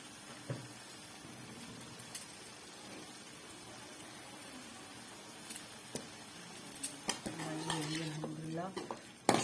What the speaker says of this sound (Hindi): अब मैं इसमें आलू जो है वो साथ ही साथ डाल दूंगी।